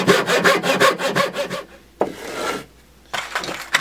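Leftover timber being hand-sawn for a bird house: a quick rhythmic run of close rasping strokes, a pause, a single stroke, then a few more strokes resuming.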